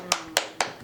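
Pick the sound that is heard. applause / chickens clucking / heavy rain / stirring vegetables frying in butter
applause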